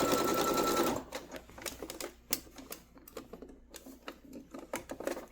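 A sewing machine runs steadily at first, stitching over a basted side seam, then gives way to a string of light, uneven mechanical clicks and taps.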